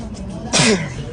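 A single sharp sneeze bursts out close to the microphone midway through, amid faint background voices.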